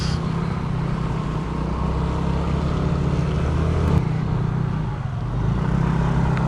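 A Yamaha NMAX Techmax scooter engine pulls hard while climbing a steep road in Baguio City, making a steady, close droning hum under continuous road and wind rush, with no talking.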